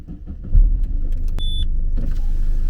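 A car's electric window motor whirs briefly amid cabin noise, with a short high whine and a soft thump as it stops.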